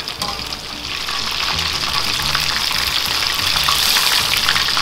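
Breaded stuffed chicken wings fry in hot oil with a dense, steady crackling sizzle that swells slightly after the first second and holds close and loud, with no voices.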